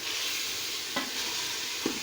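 Chicken frying in a pan with turmeric, garam masala, chilli, garlic, ginger and crushed whole spices for korma, a steady close sizzle with a couple of brief stirring scrapes.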